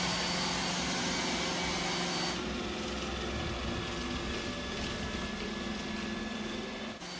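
Roomba S9 robot vacuum running at its highest power mode, a loud, steady motor whine and broadband suction roar that continues without pause, close to the listener, shifting slightly in tone partway through.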